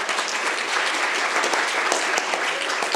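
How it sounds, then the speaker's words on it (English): An audience applauds the chairs at the close of a conference, dense steady clapping from many hands, loud and continuous throughout with no voices over it. "So a round of applause for the chairs as well."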